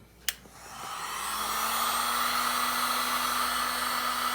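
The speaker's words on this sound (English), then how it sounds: "Then you hit it with a heat gun." A heat gun clicks on and spins up to a steady, loud blowing whoosh with a faint whine, aimed at heat-shrink insulation over a soldered joint during an ignition system install on a bathtub boat.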